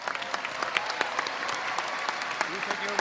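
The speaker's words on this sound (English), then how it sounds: "At least let's give a round of applause." Audience applause at a spring university convocation ceremony, steady dense clapping from a large crowd that holds at an even level throughout, with individual claps popping out of the wash and faint voices underneath.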